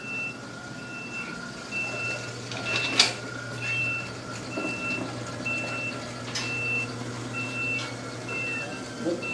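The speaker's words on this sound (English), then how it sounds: "I heard your beeper going. Beep, beep, beep, beep." An Acorn stairlift's beeper sounds as a steady run of short, evenly spaced electronic beeps in a quiet indoor room, with a faint background hum and a few soft knocks.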